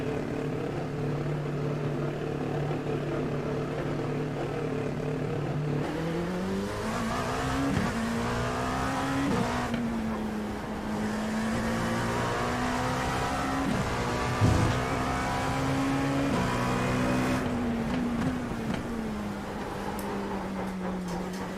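A Dallara P217 prototype race car in the iRacing video game laps Sebring on a bumpy surface, its engine a steady loud drone with pitch climbing and dropping through gear shifts over a continuous stretch.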